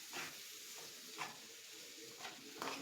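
Cluster beans already cooked, tossed with masala in hot oil, giving a soft steady sizzle with a few louder stirring scrapes at intervals, close by and with no talk.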